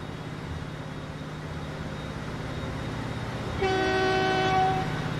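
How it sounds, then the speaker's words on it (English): A train rolls with a low steady rumble in the railway simulation game Transport Fever 2, then a bright horn blast sounds near the end over the engine noise. "let's go ahead and get started and watch our train"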